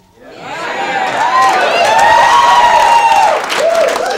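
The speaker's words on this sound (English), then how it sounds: "Please, a nice round of applause, Mr. Jonathan Katz." A studio audience at a 1986 cable comedy show breaks into loud, sustained applause for comedian Jonathan Katz, the clapping swelling quickly and holding as a dense wash with a brief dip near the end.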